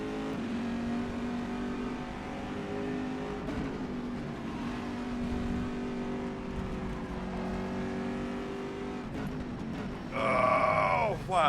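A GTE race car in rFactor 2 at Magny Cours drones at steady engine pitch, then revs sharply and climbs near the end, with a faint voice underneath.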